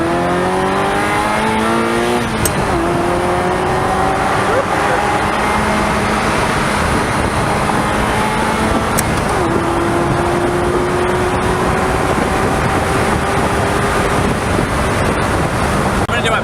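A 1995 Ferrari 348 Spider engine revs hard and smooth, pitch climbing and dropping through several sweeps, loud and close throughout, with people faintly talking beneath it.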